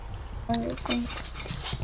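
A pet dog whimpers in short, high, whining bursts close by, with a person speaking softly over and between the whines.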